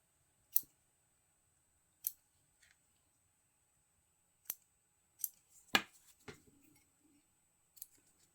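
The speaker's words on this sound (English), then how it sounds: "You're just trimming off your threads here." Scissors snip off loose threads during a sewing or craft project, a series of sharp, distinct snips spaced out with short pauses between them, close and fairly quiet.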